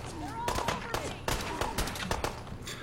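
Video game gunfire crackles in rapid bursts of sharp shots, some overlapping like automatic fire, mixed with other game sounds at moderate loudness.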